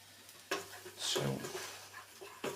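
Butter and flour roux cooking in a pan for a mushroom, onion and black pudding sauce, with quiet sizzling, a couple of sharp utensil knocks and a brief burst of stirring and scraping near the middle, close and fairly soft.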